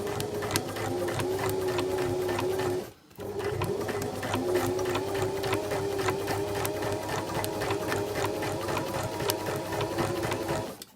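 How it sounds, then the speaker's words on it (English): A sewing machine runs a long straight stitch around a notched fabric edge for sewing princess seams, a steady close mechanical hum with rapid needle ticking, briefly pausing once before continuing without talk. "I'm going to just run my long machine stitch around the edge of this"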